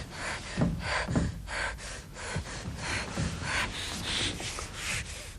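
A woman in childbirth breathes heavily and gasps while pushing, with rhythmic, loud, close breaths and gasps repeating over a steady background hiss.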